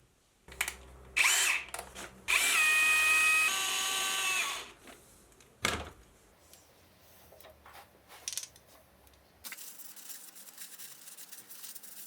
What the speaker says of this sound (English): So let's get it loaded up in the lathe and let's start machining.